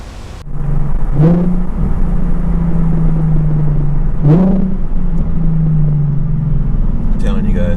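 Nissan 370Z fitted with resonated short-tail exhaust, revving in two sharp bursts that settle into a steady, loud, close idle drone, with a third blip at the end.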